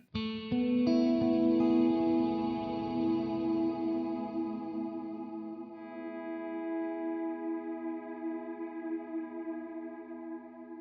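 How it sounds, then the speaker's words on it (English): Plate reverb chained after a particle verb effect on a Line 6 M9 pedal turns one loud attack into a long, dense, ringing wash of sustained tones that fades gradually over several seconds, with no voices. "And now we're going to add some plate reverb after that."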